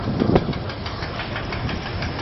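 Cornish chain ferry crossing, its engine running with a steady rumbling drone and a faint rhythmic clanking from the chain, heard continuously and fairly close with no talking.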